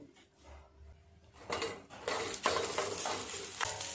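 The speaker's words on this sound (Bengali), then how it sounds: "গ্যাস একদম লো ফ্লেমে রেখে এইভাবে ভেজে নিতে হবে।" Paneer paturi fries gently over a low flame, with quiet sizzling that swells partway through, plus occasional utensil clinks and scrapes against the pan.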